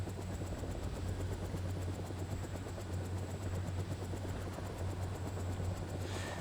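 Helicopters in the Cold War real-time strategy game World in Conflict make a steady rotor thrum and engine drone that carries on without a break, mid-level in loudness, with no talking.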